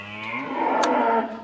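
Cattle on a farm lowing at night, a single long drawn-out moo with a rising, wavering tone, fairly close and loud with no talk over it.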